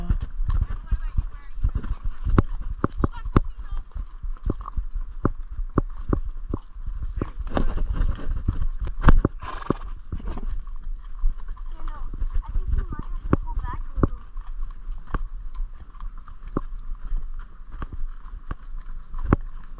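Horse walking along a Montana riding trail with a rider aboard, hooves clip-clopping in a steady, close rhythm throughout, with occasional talk and rustling mixed in.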